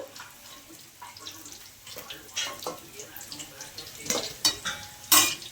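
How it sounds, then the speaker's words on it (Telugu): Fried bitter gourd is lifted out of a pan onto a plate, with a run of metallic scrapes, clinks and taps from the utensil that grow louder toward the end, over faint sizzling and some talk. "వీటిని తీసేసి మనం ఒక ప్లేట్లో తీసేసుకుందాం."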